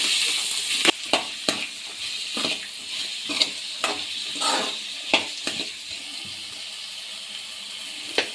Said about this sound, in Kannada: ಕ್ಯಾಪ್ಸಿಕಮ್ ಹಾಕಿ ನೀಟಾಗಿ ಹುರ್ಕೊಳ್ಳಿ 1 ನಿಮಿಷ